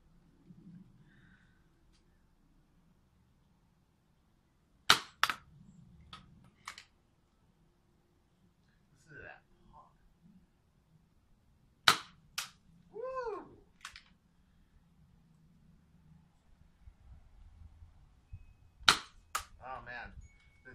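A Fenland Nerfworks Hotshock Mega Nerf blaster fires darts in several sharp, isolated pops spaced a few seconds apart, with faint handling noise between the shots.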